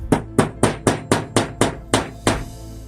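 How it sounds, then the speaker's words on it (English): A hammer taps upholstery tacks eight times in an even, steady rhythm, each strike sharp and close with a short ringing decay. "Hammer."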